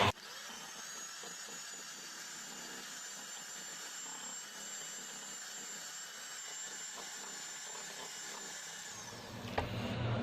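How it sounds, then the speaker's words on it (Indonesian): Electric mixer whipping buttercream at its highest speed, a steady high whine with broadband whir running alone for about nine seconds before cutting off with a brief knock at the end. "Lanjut ini di mixer hingga mengembang atau putih berjejak atau putih pucat ya, menggunakan speed paling tinggi."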